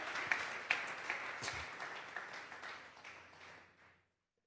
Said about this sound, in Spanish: Dele fuerte esas palmas al Dios de la gloria.